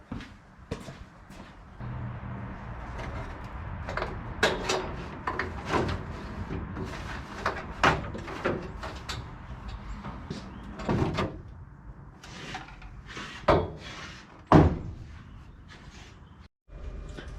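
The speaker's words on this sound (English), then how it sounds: "So let's get started on removing that carbon fiber dash right there." Quick latches undone and a carbon fiber dash pulled out of a race car: scattered clicks, knocks and rattles at close range, irregular and moderately loud.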